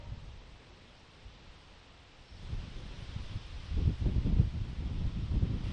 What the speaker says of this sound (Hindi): बहुत ही ज्यादा तेज हवाएं हैं।